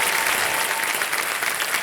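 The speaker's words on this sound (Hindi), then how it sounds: "बहुत बहुत स्वागत एक बार फिर जोरदार तालियों के साथ" Studio audience on the Shark Tank India Season 2 set bursts into loud, steady applause, a dense wash of clapping that fills the whole moment without a break.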